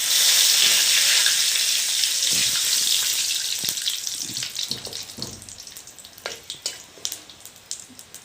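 Panch phoron spices and three bay leaves crackle and sizzle in hot oil, starting as a loud dense hiss that gradually fades into scattered sharp pops and spits toward the end, with no talking.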